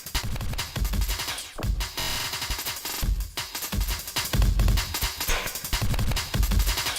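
An FL Studio breakbeat chopped with Gross Beat and layered with a booming bass drum plays as a dense, loud, driving drum loop with heavy low thumps and rapid hits, with no voices over it.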